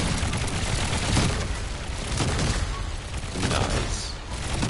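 Flak cannons fire in Trailmakers, a dense, continuous barrage of rapid bursts and booms that blur into a loud, steady roar with no pauses.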